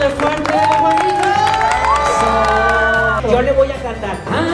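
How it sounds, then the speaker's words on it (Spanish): Guests at a child's first birthday party cheer and whoop loudly over music, with shouting voices and some clapping mixed into the noisy crowd. "¡Pero el aplauso de fuerte, Juanito!"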